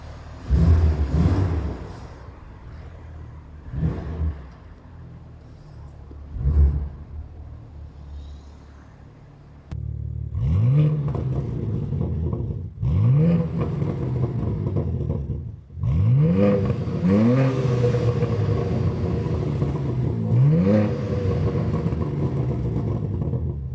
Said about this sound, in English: this is how it sounds in the parking garage